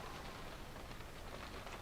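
Steady rain patters and hisses continuously on surfaces, faint and even throughout, with no voices.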